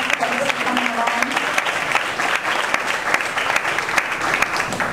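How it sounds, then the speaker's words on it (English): Sustained applause from a business networking meeting audience fills the room, steady dense clapping throughout with a brief voice heard early on. "Round of applause for Al."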